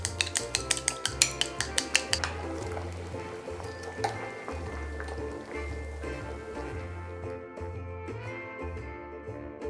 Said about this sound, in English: So beat the egg.